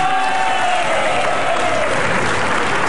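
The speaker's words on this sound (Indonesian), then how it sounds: "Kembali ke tepuk tangan tuh semua" Studio audience applause on an Indonesian television talk show, a steady wash of many hands clapping at full volume throughout, with a faint voice or crowd murmur mixed underneath.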